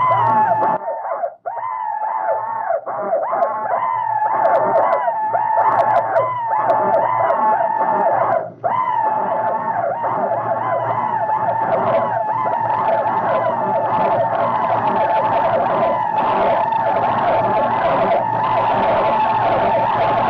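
An amplified recording of a Confederate rebel yell, layered to sound like a whole company charging across a battlefield, keeps up as a continuous wavering chorus of high whooping cries for about twenty seconds.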